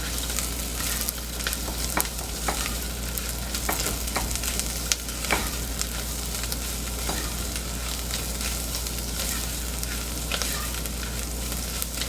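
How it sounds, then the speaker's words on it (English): Spices with cayenne pepper toast in a hot pan, a steady close sizzle with scattered crackles and brief stirring scrapes continuing throughout. "I'm just going to toast these for about a minute just to help release their flavor."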